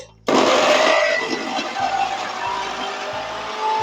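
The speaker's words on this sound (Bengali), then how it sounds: "এবার এগুলো বেটে নিচ্ছি" A mixer grinder blending chicken cutlet ingredients with green chillies, switching on abruptly into a loud, close whirring roar that holds steady with a slight rising motor whine.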